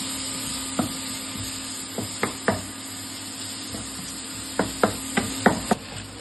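Vegetables fry in a pan under a steady sizzling hiss, broken by a scattering of sharp spatula taps and stirring knocks, close and moderately loud.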